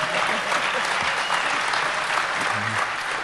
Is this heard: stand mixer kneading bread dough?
no